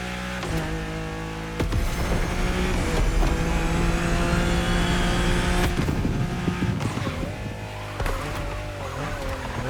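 A 1992 Honda NSX engine in The Crew Motorfest revs hard and loud, with sustained rising and falling pitch across the clip, brief surges and shifts, and faint tire noise, with no talking.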